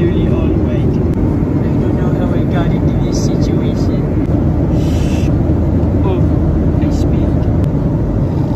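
A loud, constant engine drone fills the whole stretch, a steady airplane hum with a few faint clicks layered over it.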